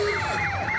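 Wailing siren of an old 1926 Dodge ambulance from a regional ambulance service, passing in an Easter festival street parade; a loud, continuous rising-and-falling wail heard close by with steady traffic rumble underneath.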